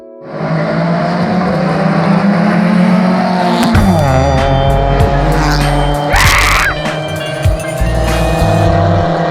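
A lowered, naturally aspirated Volkswagen Gol G5 1.6 holds a loud, steady engine drone, then the revs drop and a brief tire squeal cuts through near the end.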